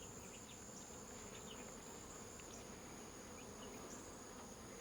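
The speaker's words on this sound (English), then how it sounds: "The bee stung the rag." Honeybees swarming around an open hive during oxalic acid vaporizer treatment, a steady dense buzz of many insects filling the whole stretch, close and continuous with no voices.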